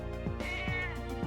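A cat in the video game Trails of Cold Steel gives a few drawn-out meows over steady in-game background music, close and clear.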